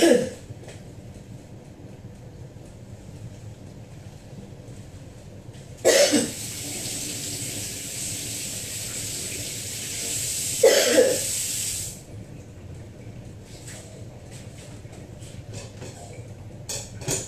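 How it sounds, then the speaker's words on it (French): A woman coughs somewhere off at a distance, giving a few harsh, scattered bursts over a quiet background, partly masked by a long hissing noise nearby. "Vous entendez comment elle tousse là-bas, non?"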